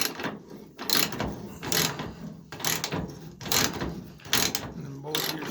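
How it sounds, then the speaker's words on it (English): Bolts are unscrewed on the fuel tank strap of a C10 truck, giving repeated bursts of ratcheting wrench clicks in short rhythmic spells with pauses between them, fairly close. "So you just unscrew the bolts here."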